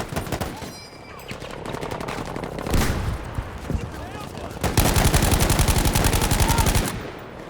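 Rapid bursts of automatic gunfire crackle in the Battlefield V video game, dense rattling volleys that swell loudest in the final seconds while players talk over the shooting.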